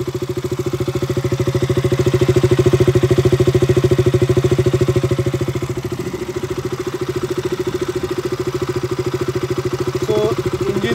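A KTM 200 Duke motorcycle idles close by, a steady, loud, rapid pulsing thump that eases slightly partway through and carries on alone.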